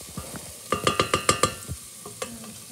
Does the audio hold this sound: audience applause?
no